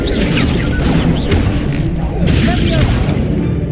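A Confringo fire spell in Hogwarts Legacy lands as a series of blasts, cracks and crashing impacts. A loud, dense battle din runs throughout, and voices can be heard in the mix.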